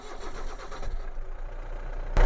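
An old car's engine cranks with a rough, uneven churning from the starter for about two seconds, then abruptly catches and roars to life loudly up close, with no speech.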